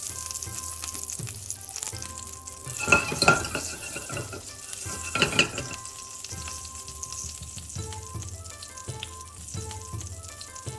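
Asafoetida sizzling in oil in a pan while salmon curry is cooked Kerala style, a steady close frying hiss with a few louder bursts of stirring and utensil clatter, and no talk.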